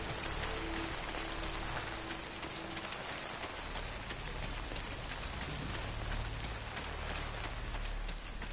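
Steady Timefall rain pours across a surface in the video game Death Stranding, a dense continuous hiss of drops close and even throughout, with no voices.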